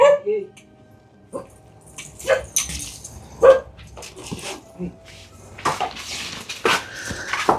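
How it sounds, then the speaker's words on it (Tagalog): A dog barks a few times in short, separate bursts, with people talking and outdoor noise around it. "Kuya Eugene, may aso."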